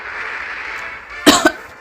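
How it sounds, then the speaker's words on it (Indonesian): An Ultraman character in a video game lets out a short coughing burst of two sharp, loud hacks after a steady hum of game sound. "Aduh, batuk guys."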